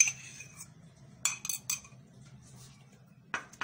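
A metal spoon clinks against a pot while yogurt is added for Sindhi biryani, a few quiet scattered scrapes and taps over low background hum, no talking.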